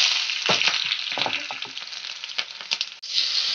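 Continuous loud sizzling of onion frying in hot mustard oil, with crackles and stirring scrapes throughout, close up and no voices.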